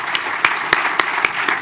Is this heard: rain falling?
no